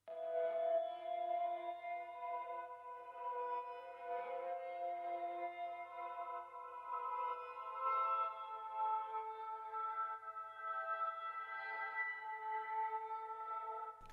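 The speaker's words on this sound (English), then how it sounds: "But then all I did was reverse it, so it sounds like this." Reversed keys sample built in FL Studio as a counter-melody for a dark R&B beat, heard alone as sustained swelling tones with a steady, smeared texture across about fourteen seconds, no voices present.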